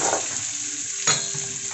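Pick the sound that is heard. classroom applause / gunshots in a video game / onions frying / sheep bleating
onions frying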